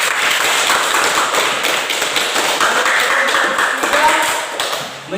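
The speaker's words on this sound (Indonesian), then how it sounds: "Oke, tepuk tangan dulu." Classroom applause during a teaching practice session, a dense, steady patter of many hands clapping together at close range for about five seconds, with voices mixed in.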